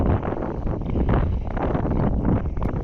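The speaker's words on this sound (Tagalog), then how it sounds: "Grabe ng hangin guys." Strong wind roars and buffets the microphone continuously, a loud, rumbling rush with no letup and no voices.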